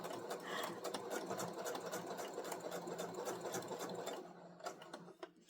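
A sewing machine stitches fabric in a steady, fast mechanical whir with rapid needle ticks, running loud and continuous before stopping near the end.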